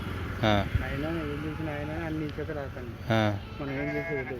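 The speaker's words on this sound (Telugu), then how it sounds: "ఇవి మన పిజ్జాది కూడా గొర్రెలు మేకలు మొత్తం కలిసి ఉన్నాయి" Two bursts of sheep and goat bleating, wavering calls around half a second and three seconds in, with a murmur of talk between them.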